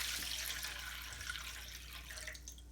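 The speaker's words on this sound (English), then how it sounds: "the thing I like to do is pour the water, the coconut water, in here." Coconut water pours out of a freshly opened Thai baby coconut into a container, a soft, steady, splashing trickle that is close and fairly quiet and continues without a break.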